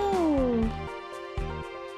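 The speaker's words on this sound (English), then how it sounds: "It's not even our kitty, but it's always sleeping on our bed." A cat meows once in the Final Fantasy VIII video game, a clear falling cry up close over soft game music, followed by light rhythmic stepping sounds.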